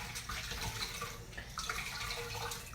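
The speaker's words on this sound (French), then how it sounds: "on rince bien comme ça ici, à l'eau tiède" Face being rinsed with lukewarm water, a steady splashing wash of water close by with brief surges, continuous and unbroken, with no speech.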